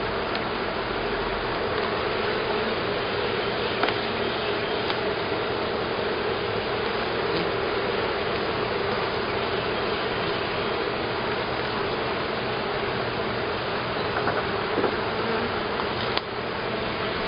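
Honey bees buzz at an open hive, a dense, steady drone that holds loud and unbroken throughout, with no voices.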